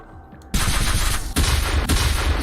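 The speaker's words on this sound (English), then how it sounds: "8 gunshots." Three heavy gunshot sound-effect bursts after a short quiet lead-in, loud and close, each blast followed by a sustained rumbling crackle.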